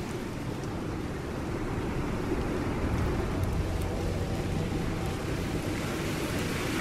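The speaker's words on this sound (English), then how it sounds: "I think we're the only ones out in the storm." Steady, dense rain pours down during a storm in the Fallout 4 video game, a constant low hiss with a soft rumbling undertone and no voices over it.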